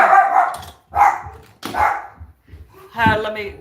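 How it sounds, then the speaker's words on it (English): A dog barks at arriving visitors inside a home: four loud, close barks in separate bursts with short pauses between them. "my dog's gonna bark. We got company coming in."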